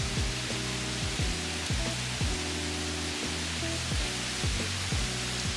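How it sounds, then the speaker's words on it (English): Heavy rain pours down in a steady, dense wash of hiss that stays constant throughout, with faint tonal hum patterns running underneath and no talking. "Look, it's literally pouring rain."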